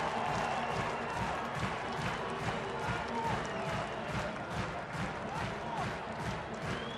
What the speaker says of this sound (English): the crowd standing there clapping, waiting for one more strike from Rafael Betancourt